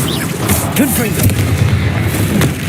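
Confringo blasting spell from Hogwarts Legacy going off as a deep, loud boom amid a busy battle din, with rumbling low end, brief sharp cracks and swooshing tones layered together over about three seconds.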